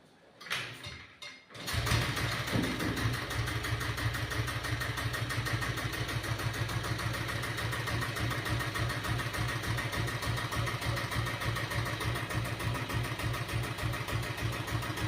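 Royal Enfield diesel Bullet vintage motorcycle starting after a brief moment of quiet, then settling into a steady, loud, rhythmic idle that thumps on evenly close by with no talk over it.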